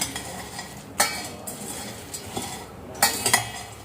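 Spices crackling while frying in a pan for biryani masala: scattered light crackles and a few sharp clinks from the pan, with soft sizzling underneath and no talking.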